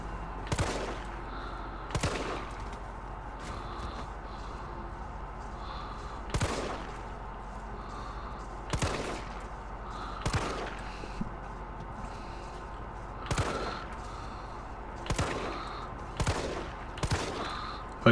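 Gunfire from the Resident Evil 3 video game: about a dozen sharp, loud shots spaced irregularly a second or two apart, some in quick pairs, over a low steady background hum.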